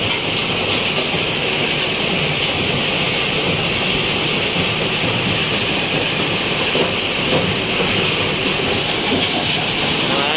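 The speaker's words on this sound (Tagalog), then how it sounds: "Ayan, gumagana na yung crusher." A stone crusher machine grinds on steadily, a loud, unbroken roar with rattling and clattering texture that holds even throughout without pauses.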